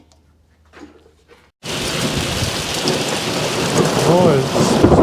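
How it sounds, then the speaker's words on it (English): Soft sleet falls outside a workshop bench area as a dense, loud, steady hiss that starts abruptly after a brief quiet moment with a short spoken word. "And look at that, it's all sleet. Kind of soft sleet."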